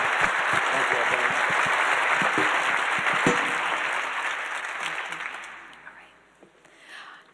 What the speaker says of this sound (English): one last round of applause for the panel